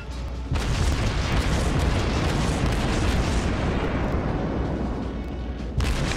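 Main guns of a Tier III Russian cruiser, the Bogatyr, firing in World of Warships, a heavy continuous roar of booming salvos and blasts that stays loud throughout, with a sharp fresh shot near the end.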